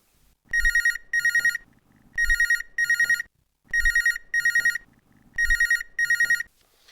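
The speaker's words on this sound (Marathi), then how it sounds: "सर आता एक आपल्याला फोन कॉल आलेला तो आपण घेऊया" A telephone rings for an incoming call to a farm radio phone-in program: four loud, near double-rings in a steady pattern with short pauses between them and no talk over them.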